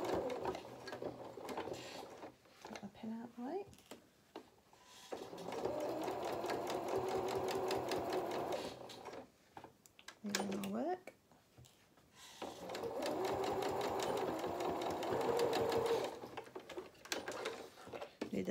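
A sewing machine stitches fabric for a toy cat's head in two long steady runs, with quiet gaps of handling and someone talking between the bursts.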